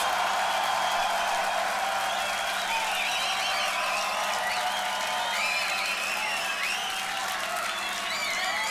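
A large crowd at a beatbox battle roars with sustained applause and cheering for beatboxer Colaps, a dense, steady wash of clapping and shouts that holds loud throughout.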